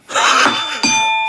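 A bell tone on a Korean radio talk show, a bright sustained ring struck twice in quick succession, the second strike ringing on loud and clear.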